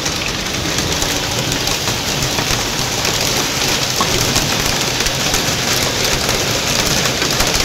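Heavy rain with hail pours down steadily on a roof, a dense, constant hiss and patter that never lets up.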